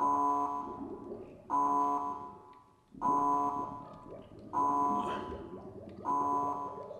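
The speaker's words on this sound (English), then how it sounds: "It's doing an alarm thing." An electronic alarm in the video game Myst pulses in a repeating two-tone pattern, with five loud bursts about every second and a half, each fading before the next. A faint voice murmurs underneath.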